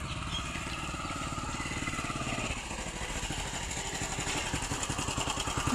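A motorcycle engine idles and putters close by in a home setting with a cat nearby, a steady, rapid low chugging that continues at a moderate level with a slight shift in rhythm midway.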